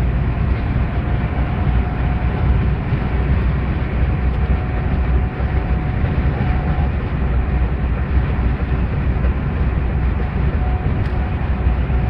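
Steady, unbroken rail rumble from a small tourist train near Primorsko, loud and close, holding the same level throughout with no voices.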